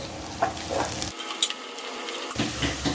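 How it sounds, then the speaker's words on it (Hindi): Finely sliced medium onions, two of them, frying in hot oil in a pan for a green bean dish, giving a steady close sizzle with faint stirring scrapes throughout. "ये 2 प्याज है मीडियम साइज का, बारीक स्लाइस करके ये डाल रहे। इसको हाफ ब्राउन करेंगे, हाफ फ्राई"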